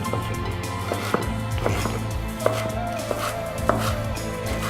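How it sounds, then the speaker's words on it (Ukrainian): Green onions chopped with a knife on a board, sharp repeated chops in an uneven rhythm over a steady low kitchen hum, close and clear. "Цікава така нарізка, зелена цибулька."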